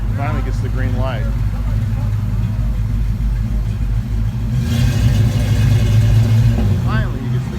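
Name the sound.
Plymouth Barracuda 340 car accelerating away at car show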